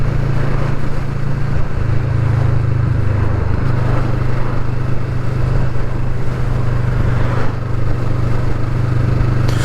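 A 2020 Kawasaki Vulcan S Performance cruiser motorcycle hums along at steady road speed, with a loud, constant low engine drone and wind rush throughout.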